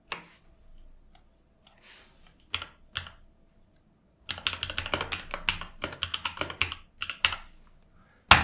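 Keystrokes on a computer keyboard as a command is typed into a Windows CMD window: a few isolated taps, then a dense burst of rapid clicks, close and alone.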